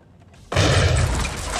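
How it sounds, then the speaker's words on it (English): A sudden explosion, a gunshot or mine blast in the 1987 war film Full Metal Jacket, breaks a quiet moment and gives way to a loud, sustained roar of noise. "Was that a mine or was that a gunshot?"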